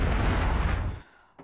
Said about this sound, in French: Ça on va voir le son de l'explosion.